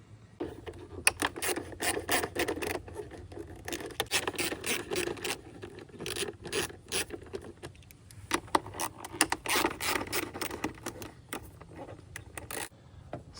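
A socket wrench ratchets at bolts on the engine air cleaner of a 2026 Honda Passport, with close, repeated bursts of clicking and scraping separated by short pauses.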